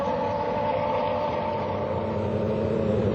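A 2001 Ferrari Formula One car engine runs at a steady, moderate idle-like drone with no revving, heard alone and fairly quiet.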